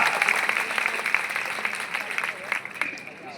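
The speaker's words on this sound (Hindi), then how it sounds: "अरे अपने आप के लिए तो जोर से लगाओ ताली।" A college event audience claps in a steady mass of applause, fairly loud and close, with a few sharper bursts standing out near the end.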